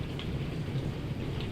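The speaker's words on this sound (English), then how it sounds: "Yeah, it's hailing right now." Hail falling outside during a storm, heard as a steady dense patter and rumble of impacts throughout, with no voices.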